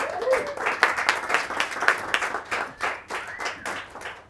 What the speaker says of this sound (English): Nice round of applause for Ross